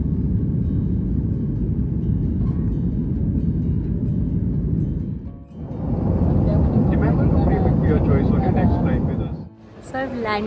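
A jet airliner lands at Mumbai airport, its engines a loud, continuous rumble that dips briefly, then swells again with a rising roar of reverse thrust before easing off.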